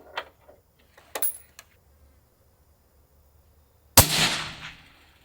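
Distant rifle shot fired at a steel silhouette target 1,000 yards away, a single sharp crack followed by a rolling echo, preceded by a few faint clicks and light handling noises.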